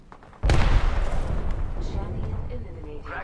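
A sudden heavy blast of gunfire in the video game Call of Duty erupts and rolls on as a dense, loud rumble that slowly fades, with a player's voice heard over it.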